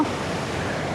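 Water rushes loudly and continuously at Athirappilly waterfall, a dense roar filling the whole moment with no voices.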